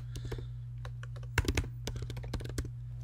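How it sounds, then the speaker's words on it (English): Keys clatter on a computer keyboard in quick uneven bursts of clicks, faint and close over a low steady hum, with no one speaking. "You could just type that in"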